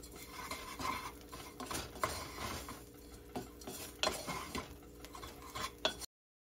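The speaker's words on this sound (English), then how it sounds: "Stir this around and then take it off the heat" A utensil stirs and scrapes a tuna loaf mixture around a pan over heat, with irregular close knocks and clinks over a faint sizzle, then cuts to silence near the end.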